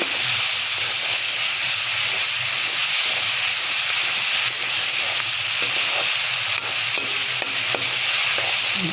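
Peas sizzle with sugar in a hot pan, a steady bright hiss of frying with a faint scrape of stirring underneath, continuous and close.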